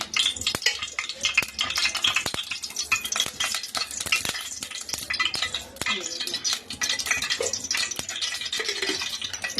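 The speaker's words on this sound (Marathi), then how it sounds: "तर त्यामध्ये मी आता हे तेल टाकते" Cooking oil hits a heated pot for tempering chicken kheema, crackling and sizzling loudly and close, with scraping clinks of a spoon against the metal throughout.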